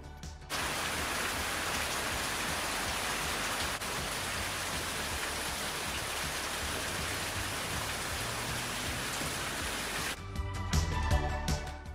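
Heavy monsoon rain pours steadily onto a house under construction in Thailand, drumming on the roof and newly hung rain gutters as a dense, even hiss before shifting near the end.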